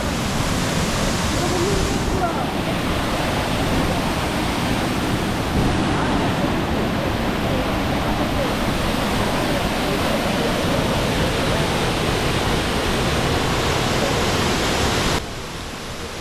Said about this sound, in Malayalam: ഒരു വെള്ളച്ചാട്ടത്തെ ഇത്ര അധികം അടുത്തു നിന്ന് നമുക്ക് കാണാൻ കഴിയുന്നത് എൻ്റെ അനുഭവത്തിൽ ആദ്യമാണ്.